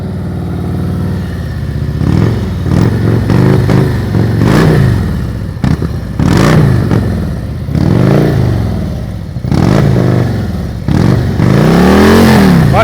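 A motorcycle at low speed in a riding-skills practice session gets repeated throttle blips, a series of loud, close revs that surge and fall back to idle in an uneven rhythm.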